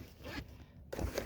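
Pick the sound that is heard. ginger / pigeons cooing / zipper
zipper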